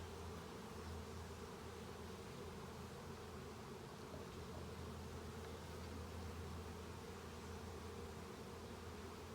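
Dense, steady buzzing of honey bees during a hive inspection, a continuous close drone with no voices over it.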